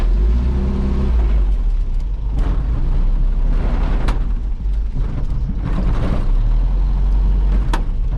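An FSR Tarpan 237 rumbles low and steady while the car turns around, its engine droning loudly and continuously with faint mechanical knocks on top.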